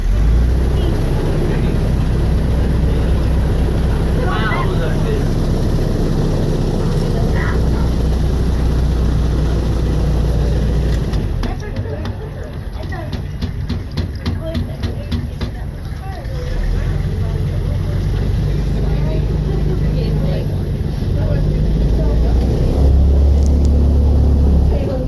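A steady boat engine drones throughout in the Everglades, close and loud from the back of the boat, with a rougher churning patch in the middle and someone talking over it.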